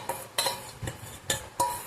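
Five sharp tapping knocks with a spoon on a container of homemade banana ice cream, close and crisp, evenly spaced with short pauses between them.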